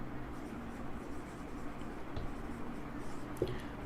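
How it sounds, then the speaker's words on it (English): Pen or marker writing out equations by hand during an engineering lecture on spur gear design, a faint steady scratching under a low room hum with a brief tap near the end. "let me write out all the conditions"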